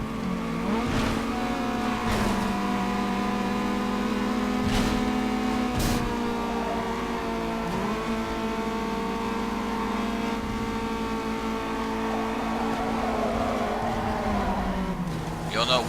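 A race car engine in the video game Need for Speed Underground 2 hums and whines steadily through gear changes, with sharp bursts and skids, while a person talks briefly over the gameplay.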